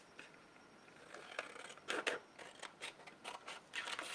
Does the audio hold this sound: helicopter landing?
no